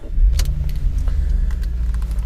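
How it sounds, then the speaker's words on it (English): The engine of a 480 hp Audi RS6 Plus catches and settles into a steady, deep, rumbling idle, heard up close with nobody speaking. "I'll just turn the engine on because it's a bit chilly today."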